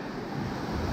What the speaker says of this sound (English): waves were a little bit tricky getting in here